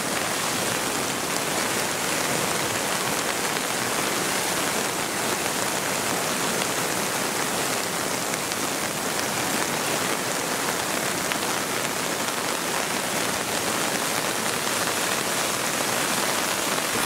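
Heavy rain pours steadily and loudly during flooding along the Tiroler Achen and Traun in Chiemgau, Bavaria, a dense continuous hiss of drops on surfaces with no pauses or voices.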